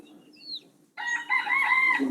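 A chicken clucks and calls close by in a quiet room, a short high squawk and then a louder run of throaty clucking.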